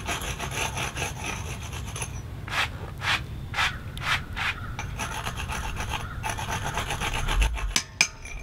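Abrasive rubbing and rasping as burrs are cleaned off a freshly smoothed concrete porch slab, steady close scraping strokes with a run of five rhythmic passes in the middle.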